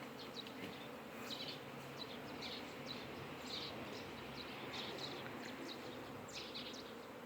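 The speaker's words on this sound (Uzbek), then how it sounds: "Mana havaji ari." Honey bees buzz around an apricot tree in a dense, continuous drone, with individual insects passing nearer now and then, faint and steady outdoors with no talk.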